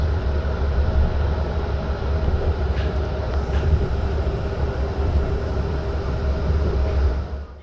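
Yarra Trams Bombardier E2 class tram running, a steady loud rumble of wheels and motors heard from on board, continuous with a few faint clicks and no voices.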